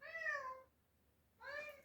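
A house cat meows twice indoors, two close, clear calls separated by a short pause, with no talk over them.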